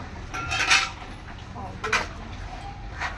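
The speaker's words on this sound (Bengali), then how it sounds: "এবার এই যে বাসনগুলো ধুয়ে একবারে কাজটা সাইড করে দিই" Dishes and metal utensils are washed after a puja, with several separate clinks and clatters of pots and cutlery close by over a low background.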